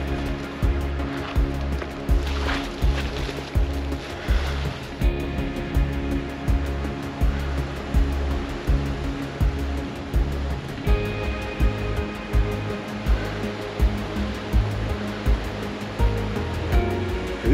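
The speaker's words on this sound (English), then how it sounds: "I see this little waterfall over here." Water splashes and rushes from a small mountain waterfall nearby in Rocky Mountain National Park, a steady churning flow with gentle rhythmic surges and no voices.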